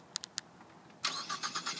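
A 2013 Ford Fusion Titanium is started by remote: three quick chirps sound first, then the engine cranks and catches, settling into a rough idle nearby.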